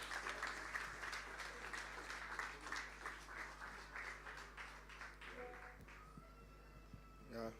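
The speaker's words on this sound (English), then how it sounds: "give him a big, warm round of applause as he makes his way up to the stage" Steady applause from a literary festival storytelling audience as a performer walks to the stage, fairly faint and distant, tapering off as the clapping dies down over a low hum.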